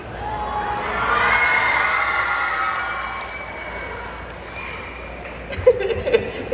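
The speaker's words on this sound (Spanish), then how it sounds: "Ese grito me encantó." An audience at a comic convention in Guadalajara lets out a loud cheering shout that swells and fades over a few seconds, followed by quieter crowd murmur and a few sharp knocks.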